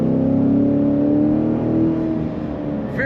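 A bright red 2019 Chevrolet Corvette Grand Sport 2LT convertible accelerating hard, its engine note rising steadily in a loud, continuous roar that eases slightly toward the end, with no talking.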